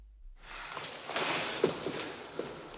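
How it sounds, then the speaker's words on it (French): Footsteps in a film scene stripped of ambient sound, a steady series of soft steps carrying on alone against a quiet background after a brief silent start. "en ne gardant que les bruits de pas"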